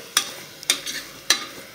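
Potatoes and black-eyed peas with turmeric being stirred and fried in a pan: three sharp scraping strokes of a spoon against the pan over a soft sizzle, close and fairly quiet.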